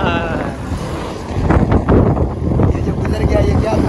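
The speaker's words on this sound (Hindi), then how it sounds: "ये जो गुजर गया ये क्या था? ये ट्रैक्टर ट्राली।" A tractor with a trolley passes by outdoors, its engine a loud, steady rumble with strong wind noise on the microphone, swelling midway as it goes past.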